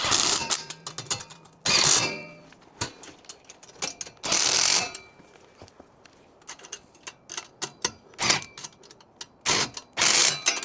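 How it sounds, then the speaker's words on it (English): Ratchet wrench tightening the rear basket bolts on a Vonride A20 electric tricycle, close by, with bursts of rapid clicking separated by short pauses and scattered single clicks, no talking. "I'm just going to go around and tighten up these rear basket bolts."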